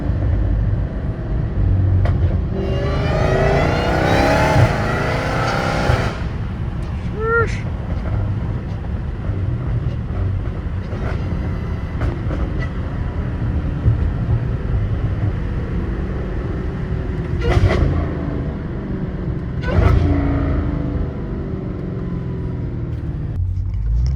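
From the driver's seat of a Dodge Hellcat Redeye fitted with an aftermarket exhaust, a steady engine drone rises into a louder surge early on, mixed with wind rush and occasional talking.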